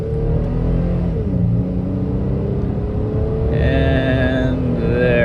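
A 2011 Toyota Tacoma TRD Pro on all-terrain tires accelerating at full throttle, engine roaring loud and steady close up with rising pitch as it pulls through the gears, plus whining drivetrain and road rumble.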